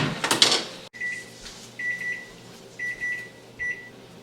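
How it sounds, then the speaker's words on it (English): A kitchen timer beeps in short, bright bursts, four groups spread over a few seconds, while vegetables from a home garden harvest are blanched; a brief clatter comes first, then the beeps ring out alone in a quiet kitchen. "So that's my 1 minute timer."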